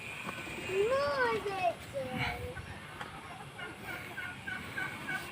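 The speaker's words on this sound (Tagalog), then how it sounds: "Ayan, nahuli na yung chicken." A chicken squawks and cackles in agitated bursts as it is caught, close by, with children's voices talking and calling around it.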